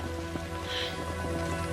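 Steady rain falling on a surface as a film sound effect, a continuous dense hiss of close drops at even loudness throughout, with no voices.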